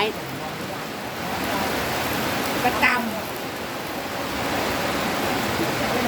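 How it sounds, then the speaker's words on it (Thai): Rain pattering steadily outdoors during a meal, a dense continuous hiss close by, with a brief word spoken over it. "บรรยากาศฝนกระทบพรำพรำนะคะ"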